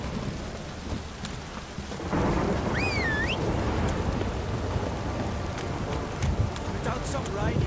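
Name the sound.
rain in The Witcher video game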